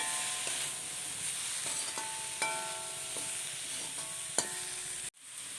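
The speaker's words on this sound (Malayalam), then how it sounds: "ഇടയ്ക്കിടെ അടപ്പ് മാറ്റി ഇളക്കി കൊടുക്കണം" Sliced bitter gourd coated in chili powder sizzles in a pan under a steady hiss, with a few light spoon scrapes and taps as it is stirred, close and even, ending in an abrupt cut.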